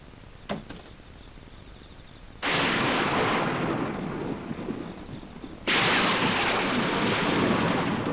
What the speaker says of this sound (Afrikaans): Donder weer.